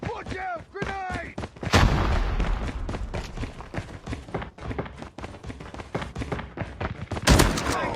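Grenade blast and gunfire in Call of Duty, a sharp heavy burst followed by a rapid run of close shots and thuds, with another loud blast near the end.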